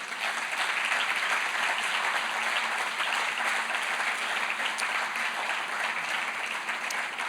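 A church congregation applauds steadily at close range, a dense, even wash of clapping that holds throughout without a break and with no talk over it.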